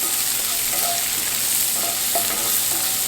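Curry leaves frying with other ingredients for a pumpkin curry hiss and crackle in the pan, a close, steady sizzle with small pops and spoon stirring throughout, no one speaking.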